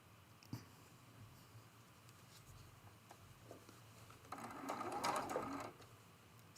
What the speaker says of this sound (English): we're going to sew that one seam to join them